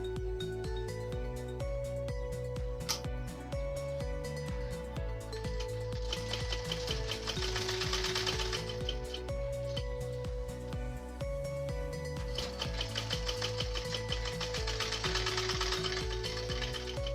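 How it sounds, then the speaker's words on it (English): Sewing machine stitching a backpack top handle runs in a steady rapid mechanical chatter with changing speed, pausing briefly around the middle before resuming, close and alone with no talking. "I put this in place and I start sewing."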